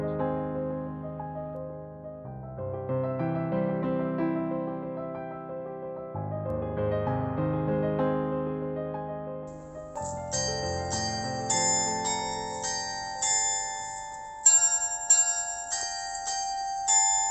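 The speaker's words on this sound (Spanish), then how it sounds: "en una de las torres de pronto se abrieron las puertas y empezaron a sonar las campanas con esta melodía" Church tower bells at the Church of Peace in Poland ring out a melody, sustained pealing tones layered and continuous, with higher bright bells joining partway through, loud and close with no voices.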